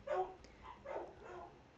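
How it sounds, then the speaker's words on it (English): Dogs bark a few times in another room, picked up faintly through a microphone, with two or three short muffled bursts. "And sorry about the dogs, everybody."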